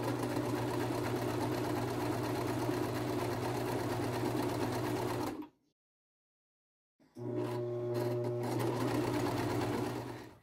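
Sewing machine stitching a zigzag seam around an open-back knit top, a loud steady mechanical whir that runs continuously, stops dead for about a second and a half, then starts up again at the same pace.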